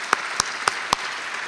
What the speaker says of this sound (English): So I just want to give one last round of applause to everybody in here.